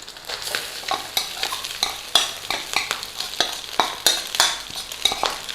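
Rice is stirred and tossed in a hot pan for pineapple shrimp fried rice, with a rhythmic series of scraping, clattering strokes over a steady sizzle, close and continuous.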